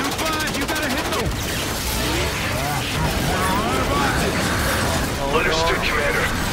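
Anti-aircraft guns firing during a Mars battle in Call of Duty: Infinite Warfare, a dense roar of gunfire and mechanical clatter mixed with game music and shouted radio voices throughout.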